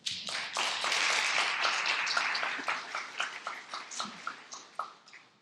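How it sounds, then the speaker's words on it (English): Audience applause at a community gathering, a dense burst of clapping that thins out into a handful of separate, slowing claps near the end, fairly close with no talk. "Another round of applause for John, please."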